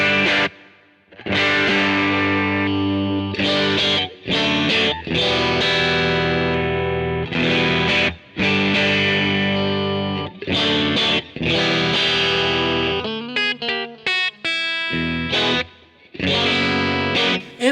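Distorted electric guitar played through a Kemper amp profile plays loud sustained chords and riffs with brief gaps, ending in a quick run of picked notes before more chords.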